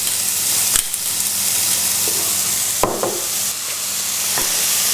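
Onion, lamb mince and spices fry in a pan with a steady, loud sizzle, broken by a few sharp scraping clicks of stirring.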